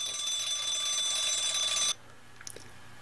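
A built-in alarm sound from the Awaken iPhone alarm app plays as a steady, bright electronic tone for about two seconds and then stops abruptly, followed by a few faint taps.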